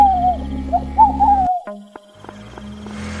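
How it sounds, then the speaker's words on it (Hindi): An owl hoots in a series of wavering, tonal calls over a low steady drone, followed by quieter sparse tones and a faint rising hiss. "दूर कहीं से उल्लू की आवाज आने लगी थी।"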